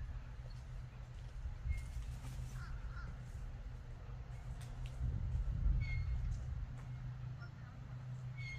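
A crow-like bird caws a few times, moderately far off, beside a disc golf course, sounding over low outdoor rumble with faint voices now and then.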